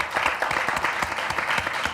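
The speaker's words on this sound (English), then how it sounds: "everybody give another round of applause for Nick" A podcast audience gives a round of applause for a guest: a short burst of steady, fairly loud clapping from a small crowd, filling the whole moment without speech.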